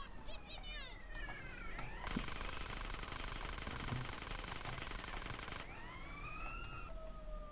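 Wailing police sirens sweep up and down over Grand Theft Auto: San Andreas game audio, with a burst of rapid mechanical rattling in the middle and a steady engine drone underneath during a chase on police motorcycles.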